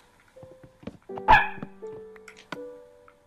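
A pet dog barks indoors in a handful of sharp, close yips and woofs, one louder bark standing out midway, with short pauses between them.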